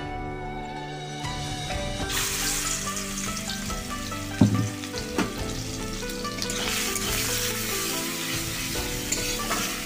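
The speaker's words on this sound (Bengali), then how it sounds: "চিংড়ি মাছটা ভেজে নেব।" Prawns fry in hot oil in a wok with a loud, steady sizzle, stirred now and then, and one sharp clatter of a utensil near the middle.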